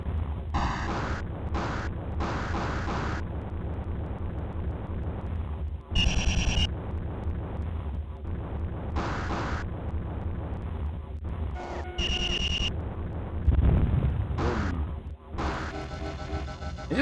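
Rapid-fire shooting in Top Gunner, an unreleased 1986 Exidy arcade game, comes as a steady synthetic electronic drone broken by repeated sharp, bright bursts and tones, some brief and some sustained, all close and loud.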